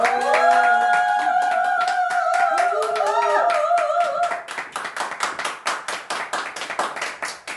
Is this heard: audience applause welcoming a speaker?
yes